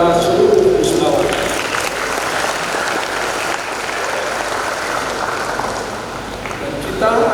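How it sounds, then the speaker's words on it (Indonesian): A large crowd applauds graduates at a graduation ceremony held at an Islamic boarding school. The clapping is sustained and dense and fills the hall, and a voice begins speaking over it near the end. "Kita berikan aplaus kepada seluruh wisudawan."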